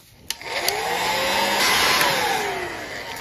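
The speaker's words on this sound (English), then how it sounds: "I don't have a soldering iron, but I do have a heat gun." A heat gun blows with a steady, close whooshing hum that swells slightly, set off by a couple of sharp clicks at the start in a workshop.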